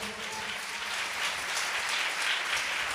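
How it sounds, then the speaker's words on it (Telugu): A church congregation claps hard in unison after a pastor's sermon, a continuous loud wash of applause with no talking. "చప్పట్లు కొడదామా గట్టిగా?"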